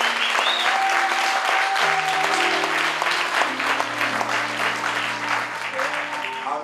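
A church congregation in Paris breaks into sustained applause and acclamation, loud and dense throughout, with a sustained sung or organ-like tone running under the clapping.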